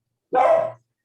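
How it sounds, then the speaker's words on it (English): An 18-year-old dog gives a single short, close bark in a kitchen, loud and alone against silence. "And I'm sorry, that's my dog, Barney, you'll have to forgive me."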